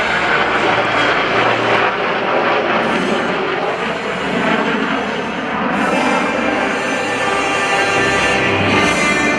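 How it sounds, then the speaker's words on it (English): Two F-22 Raptors and a T-38 Talon passing overhead for a pitch-up to land at an air show, a loud continuous jet roar that swells and shifts as they go by. "here come the two Raptors and the T-38 coming in for their pitch-up rate to land."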